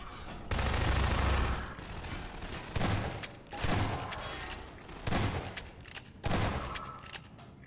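Bursts of rapid automatic gunfire from a strafing aircraft in a video game, four loud rattling volleys with short gaps, heavy and close.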